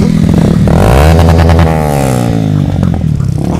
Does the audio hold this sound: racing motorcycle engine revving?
yes